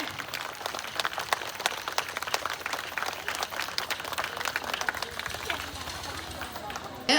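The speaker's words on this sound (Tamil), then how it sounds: "எல்லாரும் அவங்க மிகப்பெரிய கைத்தட்டல் அவங்களுக்கு கொடுங்க" Applause for a dancer at a temple devotional event, steady crowd clapping of many hands with murmured chatter running throughout.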